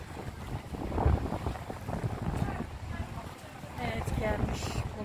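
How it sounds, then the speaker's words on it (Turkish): Strong wind buffets the microphone over a steady rumble of a ferry moving across the sea, with a voice speaking at times beneath the gusts. "Denizin üzerindeki dalgalara güzel müthiş bir rüzgar var"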